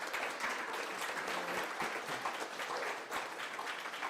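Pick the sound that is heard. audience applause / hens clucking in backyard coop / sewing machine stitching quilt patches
audience applause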